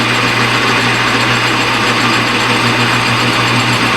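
A metal lathe turning a racing bushing or spindle hums and whirs loudly and continuously at a steady high pitch, with a dense metallic hiss layered over it and no pauses.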